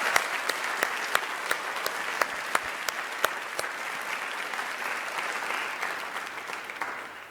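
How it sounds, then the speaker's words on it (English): A lecture audience at a keynote event applauds, a moderately loud, even wash of clapping with a few sharper nearby claps standing out, lasting several seconds and slowly tapering. "Let's give them a round of applause."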